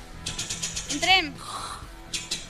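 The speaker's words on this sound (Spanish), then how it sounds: "Una máquina de escribir. Correcto." Quick bursts of mechanical typewriter clacking, a rattling run of key strikes, a brief vocal sound in the middle, then more clatter.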